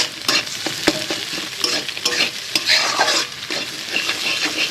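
Eggs frying with onion and green chilli in a wok, stirred continuously with brisk scraping strokes over a loud, steady sizzle, close up with no talking.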